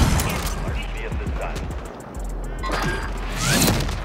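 Rapid gunfire in a multiplayer shooter video game, bursts of shots and impacts scattered through the stretch under game sound, with a louder burst near the end.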